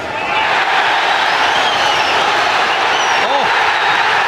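A large boxing arena crowd roars in a steady, dense wall of noise, loud and unbroken throughout, with a commentator's voice partly heard over it.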